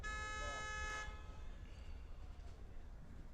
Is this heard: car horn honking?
yes